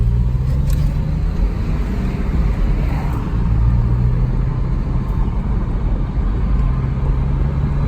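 A 1999 Porsche 911 Carrera 996 Cabriolet drives along a road, its engine giving a steady, loud low rumble with road and wind noise throughout and no talk.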